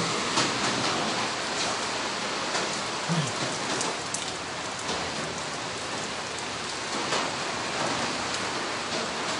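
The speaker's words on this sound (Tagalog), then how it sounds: "Sobrang lakas yung ulan." Heavy rain pours down steadily, a dense continuous hiss of drops drumming on surfaces, loud and close, with no voices.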